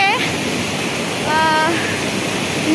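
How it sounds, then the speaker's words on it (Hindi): Chandro waterfall set in forest near Narki village in Bokaro district, Jharkhand, pouring as a steady broadband roar that fills the whole clip, with faint whistle-like tones and a voice briefly audible over the rushing water. "इस सब जंगल के बीच में ये चंद्रो नाम का एक फॉल है"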